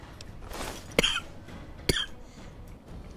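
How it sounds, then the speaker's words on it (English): A person playing Fallout 3 gives two sharp, close coughs about a second apart in a quiet room, followed by a faint third catch of the throat at the end. "Got the coughs here."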